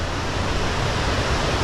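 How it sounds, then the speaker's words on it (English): Steady broadband roar of a waterfall in cold, wet conditions with blowing mist, close and loud, filling the whole stretch without pause and with no voices. "Beautiful waterfall though."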